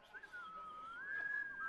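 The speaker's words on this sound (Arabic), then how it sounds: "انتوا ايه بتتعلموا تصفير جديد ولا ايه؟" A person whistles one sustained, gently wavering tune that bends slowly up and down, fairly quiet and heard alone against faint room noise.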